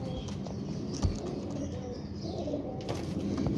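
Pigeons cooing in a loft, soft low warbling coos blending into a steady murmur of birds, with faint chirps and rustling around them and no talking.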